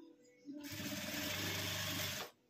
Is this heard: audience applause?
no